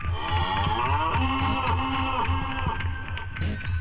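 A cow moos in long, drawn-out, tonal calls that rise and fall, loud and close, with a low hum underneath and no voices.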